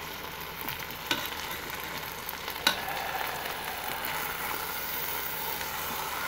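Cross-cut bone-in beef shank sears in a Ninja Foodi with a steady frying sizzle, broken by two sharp clacks as the pieces are flipped.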